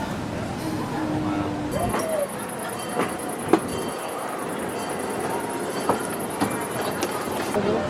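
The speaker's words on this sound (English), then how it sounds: "the train was only 21 minutes for the full circuit" Steady rumble and rattle of a moving amusement park train car at Plopsaland, with a high whine overhead, scattered clanks and people talking faintly in the background.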